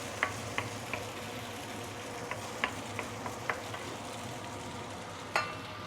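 Penang-style fried noodles sizzle steadily in a hot pan while being stir-fried, with a run of sharp clinks and scrapes from the utensil against the pan.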